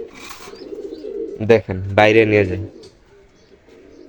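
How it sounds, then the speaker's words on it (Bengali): A sick pigeon chick with pox gives soft cooing and squeaky calls up close, a few short bursts over a few seconds, while a person speaks alongside. "আমার এই যে কবুতরের বাচ্চাটা আমি বের করি"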